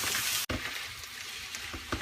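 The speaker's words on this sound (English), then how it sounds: "now we're going to add in our apples, and we're going to cook these until they're a little bit brown" Pork chops and Honeycrisp apples sautéing together in a hot pan: a dense, steady sizzle, briefly cut out once, then resuming with small stirring clatters near the end, close up and with nobody talking.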